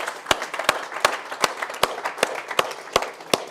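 Sparse, irregular hand claps ring out at a regenerative agriculture conference, about ten sharp claps over a few seconds, like a small group applauding with no voices.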